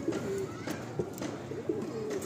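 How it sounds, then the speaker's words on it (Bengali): A white-headed pigeon coos repeatedly in a loft, several low warbling calls spaced at a steady rhythm, fairly close and clear over faint background hiss. "একটা লাস্ট পায়রা দেখাচ্ছি আপনাদের"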